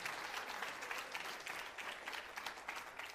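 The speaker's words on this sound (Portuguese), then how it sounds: "da un fuerte aplauso" A church congregation applauds at a sermon, a steady wash of many hands clapping at some distance, even and unbroken for the whole short stretch.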